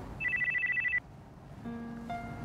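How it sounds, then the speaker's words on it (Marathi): An electronic telephone ring sounds close and clear as a rapid warbling trill for about a second, followed after a pause by softer tonal chimes. "मिस दाभोळकर, आईचा फोन आहे"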